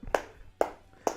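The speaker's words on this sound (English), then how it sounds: "round of applause" Three sharp hand claps land at an even, unhurried pace, close and distinct, with quiet between them.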